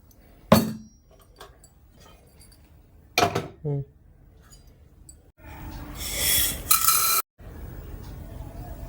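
Roasted green gram tipped into a metal pressure cooker in a home kitchen: a few sharp clinks of steel, then a brief rattling, hissing pour of dry lentils, with quiet pauses between.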